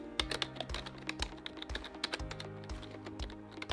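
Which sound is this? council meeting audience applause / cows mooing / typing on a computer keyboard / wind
typing on a computer keyboard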